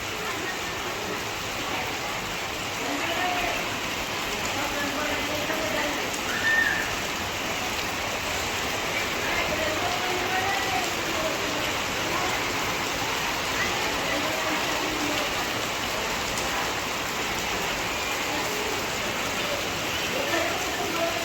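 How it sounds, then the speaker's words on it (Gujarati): Steady rain falls continuously with a broad hiss throughout, no pauses, moderately loud and fairly close. "એમ જો કેવો વરસાદ આવે"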